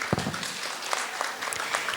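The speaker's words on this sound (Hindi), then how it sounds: "हाथ ताली बजा सकते हैं।" An audience at a talk on overcoming overthinking claps steadily, a dense, even patter of many hands filling the room with a few sharper claps poking through.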